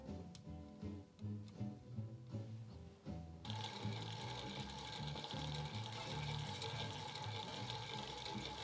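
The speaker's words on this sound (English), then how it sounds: "Here's a closer look at the bobbin winder working." A hand-crank-converted Singer 99K sewing machine, roughly a hundred years old and restored, winds a bobbin: a quick rhythmic mechanical clatter at first, then a dense, steady whirring run, close and fairly quiet.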